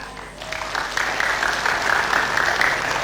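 Studio audience applauding on an Indonesian TV program, a dense, steady wash of clapping that holds at an even level for a few seconds with no pauses.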